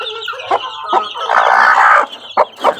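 A McLean breed mother hen, three-quarter black, clucks in several short bursts close by, one drawn-out call louder and sustained in the middle, with no talk.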